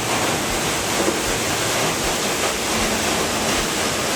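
A fast, powerful waterfall on Oregon's Trail of Ten Falls roars in a loud, unbroken wash of rushing water, close by and steady throughout, with no voices heard.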